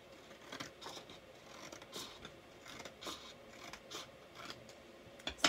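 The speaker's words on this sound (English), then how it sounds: "I'm just going to take my scissors to cut along that sort of score line" Quiet, repeated snips of scissors cutting paper along a score line for paper bows, a steady series of small crisp clicks and rasps close by.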